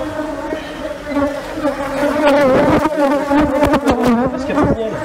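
Bees swarm and buzz around a hive exposed in an opened roof, a dense steady drone with wavering pitch rising louder midway and holding close, with no talk over it.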